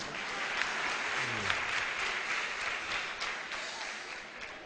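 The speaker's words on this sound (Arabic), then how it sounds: "صفقوا" An audience at a poetry and arts forum applauds steadily in a sustained, moderately distant wash of clapping that slowly fades toward the end.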